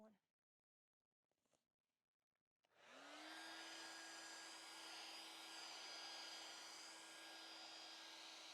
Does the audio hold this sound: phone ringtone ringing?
no